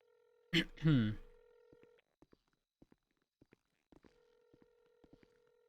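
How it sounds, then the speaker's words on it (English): Phone ringback tone in the NoPixel role-play game, a steady electronic tone heard twice alone, separated by scattered faint clicks after a brief burst of speech at the start. "I'm gonna make a quick phone call for clarification."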